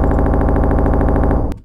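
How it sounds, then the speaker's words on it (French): An orchestral timpani tremolo in a symphonic final boss score, a loud, fast, even drum roll that sustains and then cuts off abruptly near the end. "je vais peut-être rajouter mon petit trémolo de timbale que j'adore"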